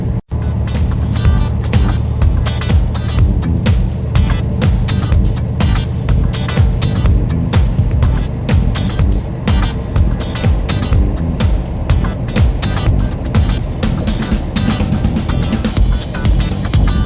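A long-haul truck drives eastbound on Interstate 80 in Wyoming and passes other trucks, giving a loud, continuous roar of engine and road noise with rushing wind throughout and no speech.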